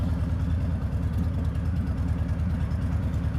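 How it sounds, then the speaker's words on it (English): A car engine idles on aftermarket, non-stock exhaust pipes, a steady, close, low rumbling burble that holds even throughout with no talking. "the sound is good right off the bat as soon as I flick that start button"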